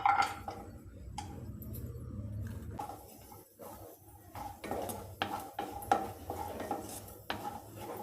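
Chopped cashews roasting in ghee in a pan, stirred with a spoon that clinks and scrapes against the metal in irregular taps over a faint low sizzle, close and fairly quiet.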